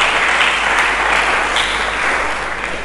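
Congregation applauding in a church service, steady dense clapping at full volume from start to finish, close and loud with no pauses.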